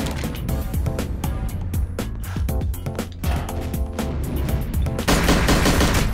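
Dense, rapid gunfire from the GoldenEye 007 video game played online, a near-continuous stream of sharp shots and bursts layered with game music and effects, loud throughout and building into heavier fire toward the end.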